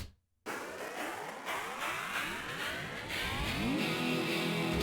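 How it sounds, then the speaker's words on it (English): Frequency-shifted guitars in an electronic music production, forming a dense, loud sweep of tones that starts low and glides back up, entering abruptly after a short silence and building steadily. "that is just a frequency shifter. So they're starting lower and they're going back up."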